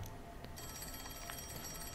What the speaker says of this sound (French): On va répondre au téléphone.